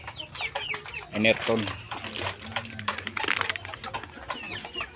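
A shamo rooster clucks in short, soft bursts close by, mixed with rustling and crinkling, while someone talks over it.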